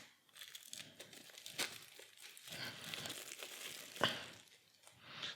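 Plastic-wrapped card packs from a board game box being opened: close, quiet crinkling and tearing in short bursts, with one sharper rip partway through.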